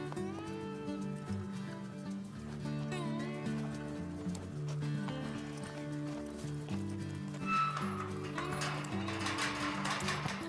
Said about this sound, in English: He's my rodeo and ranch horse.